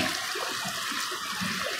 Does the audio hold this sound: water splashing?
yes